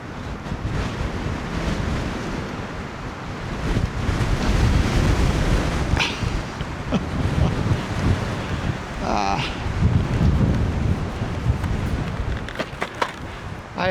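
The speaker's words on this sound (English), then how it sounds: "A little bit of ice, and now the wind is picking up." Strong gusting wind and crashing waves on an icy waterside ride, loud continuous buffeting against the microphone with surging surf underneath and a few faint voice-like bits, no clear talking.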